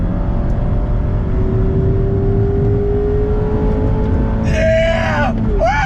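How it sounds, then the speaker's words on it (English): A 2021 Mazda MX-5 Miata RF Club engine revs steadily up through the range in a loud, close, rising drone. Near the end it shifts, and a person talks over it. "Just let the engine pull all the way through the revs."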